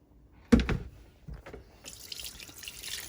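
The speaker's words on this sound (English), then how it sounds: "I'm washing one by one, washing the oxtail one by one." Tap water runs in a sink while pieces of oxtail and beef are washed one by one, a sudden splash followed by steady running water and dripping.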